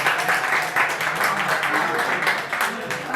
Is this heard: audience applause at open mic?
yes